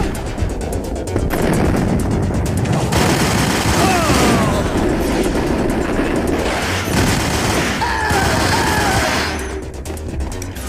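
Heavy gunfire from the Max Payne Remastered action game, dense overlapping shots and booms filling most of the stretch, loud and close, with brief shouted voices breaking through.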